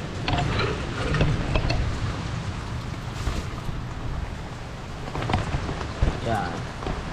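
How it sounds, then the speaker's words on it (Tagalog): Heavy rain pours down in a dense, steady hiss close by, with a few scattered voices speaking beneath it. "Grabe, lakas pa rin ang ulan dito"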